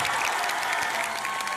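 Brief, steady clapping from a gathered audience at an award handover, a dense, even patter with little else audible.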